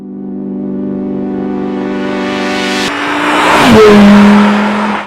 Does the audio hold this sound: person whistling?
no